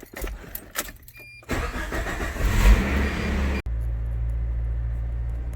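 A John Deere tractor engine cranks with a few clicks, then catches and roars loudly for a couple of seconds before settling into a steady, close, low idle.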